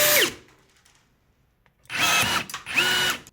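A Bosch GRG 18V 16 C cordless rivet gun sets a 4.8 by 8 mm steel rivet, giving a short burst of close, loud mechanical whirring followed after a quiet pause by two longer powered pulls.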